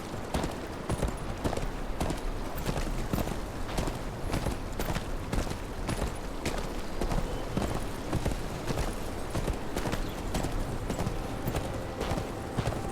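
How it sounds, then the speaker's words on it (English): Horse hooves clip-clopping in the video game Game of Thrones, a steady rapid rhythm of sharp hoof strikes on hard ground, close and continuous throughout with no voices. "Where's your horse? Mount up and let's go."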